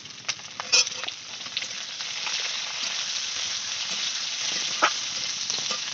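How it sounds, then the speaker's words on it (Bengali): Steady frying sizzle of potato and eggplant in a pan, with a few sharp clinks and scrapes of stirring over the constant hiss. "হালকা একটু হালকাভাবে ভেজে নেবো আলুটা আমার হালকা ভাজা হয়ে গেছে"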